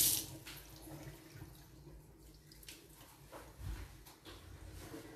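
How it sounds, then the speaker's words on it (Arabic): Tap water runs steadily into a sink during handwashing in a home kitchen, a quiet continuous wash with faint clinks and bumps. "ماذا بينا نغسل يدينا"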